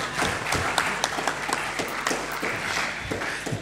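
An audience at a French book-fair panel discussion applauds steadily, a dense run of many hands clapping for a few seconds with no talking.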